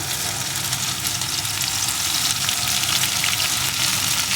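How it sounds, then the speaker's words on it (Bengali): Fried potatoes cooking with crushed ginger and green chilli give a dense, even sizzle of hot oil, close and continuous with light stirring, no one speaking. "আলুর সাথে এই মশলাটা একটু কষিয়ে নেব"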